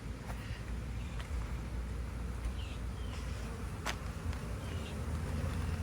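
Bees from a moved swarm that sat too long in a bucket hum in a steady, dense drone, fairly quiet and continuous with a few louder insects buzzing past close by.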